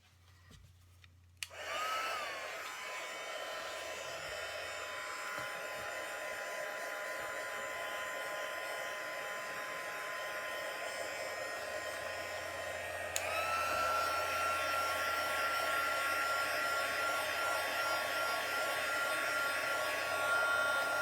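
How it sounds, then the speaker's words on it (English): A small heat gun blowing hot air to dry freshly stamped ink on paper, a steady close whooshing roar that starts abruptly and runs continuously, rising slightly in pitch partway through. "I could take my, and maybe I will, my little heat gun"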